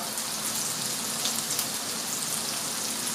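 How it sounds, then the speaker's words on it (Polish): Boiling water pours steadily into a bowl, a continuous hissing, splashing rush that stays even and close throughout. "i zalewam wrzątkiem, gotującą się wrzącą wodą."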